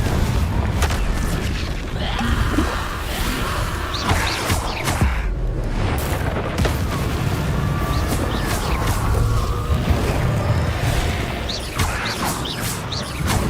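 Repeated Confringo blasting spells explode during combat in Hogwarts Legacy, a dense run of loud booms, crashes and whooshes layered over continuous game sound, with no commentary.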